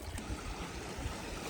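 Montana's Cabin Creek flows at a river crossing, a constant rushing, gurgling wash of water, close and steady over its short span with no voices.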